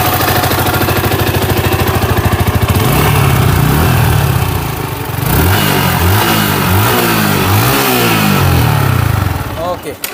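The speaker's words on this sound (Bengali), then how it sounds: "তো বাইকের সাউন্ডটা একটু শোনেন।" A 2017 Yamaha R15 motorcycle engine idles loudly up close, then is revved repeatedly in rising and falling bursts, dropping briefly before climbing again near the end.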